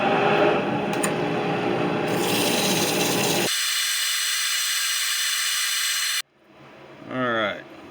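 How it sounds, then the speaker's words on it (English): A power sander grinds steadily and loudly against a wooden urn being turned on a lathe, shifting pitch midway before cutting off, followed by brief quieter rubbing. "time for some sanding"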